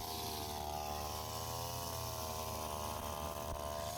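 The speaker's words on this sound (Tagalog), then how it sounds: "Mag-grass cutter kami, ginagrass cutter naman namin ang aming mga dahon." A motorized grass cutter trims overgrown plants and leaves during storm cleanup on Negros, a continuous buzzing engine whine running loud and steady throughout.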